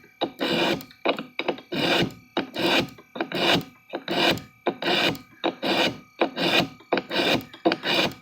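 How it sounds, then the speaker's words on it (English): A straight-edge knife blade draws repeatedly through a handheld sharpener, about a dozen loud, close rasping strokes in a steady back-and-forth rhythm with short gaps between. "then you put it on the handheld sharpener and it'll go to work."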